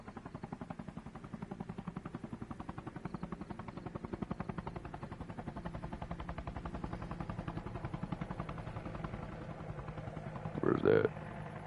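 Helicopter in the video game ARMA Reforger, a steady rhythmic rotor thump that holds throughout, fairly close, with a brief louder burst near the end.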